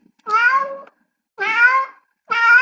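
A large cat meows three times, loud and close, each a clear drawn-out tonal cry of about half a second with short silent gaps between them.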